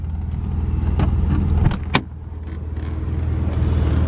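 1989 Middlebridge Scimitar GTE engine idling with a steady low rumble, close by, broken by a few clicks and a sharp knock partway through before the idle settles again.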